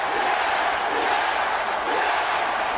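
Steady, loud roar of an arena crowd cheering a wrestler in the video game WWE 2K23, a dense unbroken wall of noise with no talking.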